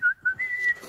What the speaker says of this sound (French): Ce qui aura pour effet de faire siffler votre gilet jaune.